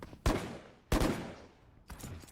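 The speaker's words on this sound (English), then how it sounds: "here's the gunfire" Gunfire from the tactical shooter Valorant during a professional VCT match: three sharp, loud bursts of shots spaced roughly a second apart, each decaying into a short tail of echo, with no talk over them.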